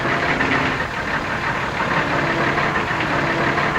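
A truck engine idles steadily and loudly at close range, a continuous dense rumble with no breaks or talk over it.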